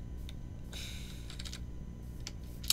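Computer keyboard and mouse clicking during Minecraft play, a dense, steady run of small clicks and key taps with brief louder bursts, fairly close and with no talking.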